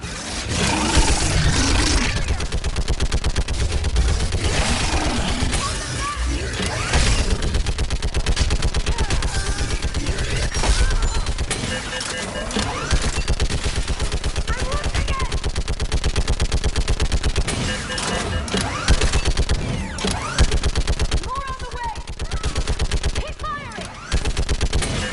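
Heavy mounted gun in the Mass Effect 3 game, Tessia level, fires long sustained automatic bursts amid battle din, loud and dense throughout with brief gaps, plus scattered combat noise and occasional voices.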